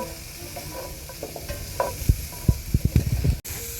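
Cauliflower, onions and peppers cook in a skillet with a low sizzle as a utensil scrapes and taps the pan in a quick run of close, sharp knocks toward the end.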